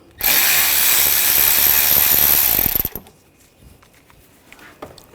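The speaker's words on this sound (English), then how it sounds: "Now we're going to take the bolts out for the radiator. Use a 10mm socket." A power tool with a 10mm socket whirs loudly for under three seconds while backing out radiator bolts on a 2014-2020 Nissan Rogue, then stops abruptly, leaving faint clicks and small mechanical noises.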